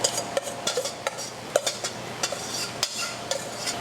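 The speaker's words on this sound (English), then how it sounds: "Then stir it up." Peas and carrots being stirred into fried rice in a pan, a spoon scraping and clacking in irregular bursts over a soft background sizzle, with no speech.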